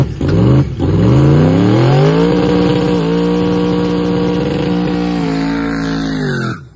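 A Chevrolet Camaro doing a street burnout holds a loud, sustained engine rev near the limiter, pitch climbing then sitting high for several seconds before dropping off, close and alone with no talking.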